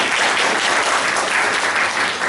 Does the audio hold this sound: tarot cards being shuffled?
no